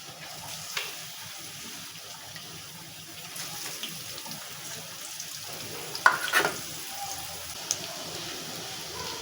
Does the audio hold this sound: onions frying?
yes